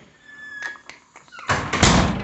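Hotel room front door at the Cosmopolitan in Las Vegas opening and closing, a few light clicks and knocks of the latch followed by a louder rushing thud as the door swings, close by.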